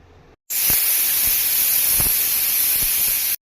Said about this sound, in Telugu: స్టవ్ వెలిగించి కుక్కర్ విజిల్ పెట్టేద్దాం ఫ్రెండ్స్